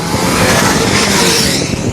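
Cars speeding past on a road in Madina, a loud continuous rush of engines and tyres close by, with no talk.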